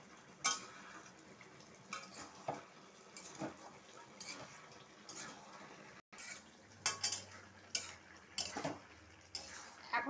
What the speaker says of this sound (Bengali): এখন আমি এতে এইগুলো ভালো করে নাড়িয়ে নেব